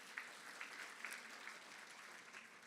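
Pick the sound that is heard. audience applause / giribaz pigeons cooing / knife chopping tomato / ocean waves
audience applause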